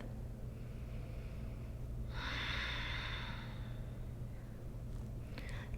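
A single soft, near exhale of breath during a yoga twist in a low back release practice, lasting about a second over a constant low background hum.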